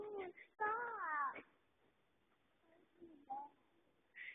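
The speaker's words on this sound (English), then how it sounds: "A lot of pigeons live up there. I can hear them." Pigeons cooing up under a bridge in a park, a few soft, brief calls in bursts with quiet gaps between them, faint and somewhat distant.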